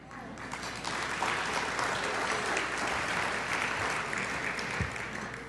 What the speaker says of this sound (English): We applaud for that.